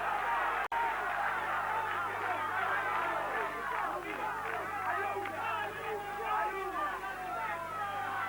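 Arena crowd at a WBC welterweight boxing title bout between Buddy McGirt and Patrizio Oliva, a dense roar of voices and shouting that swells and holds throughout, with a sharp click near the start.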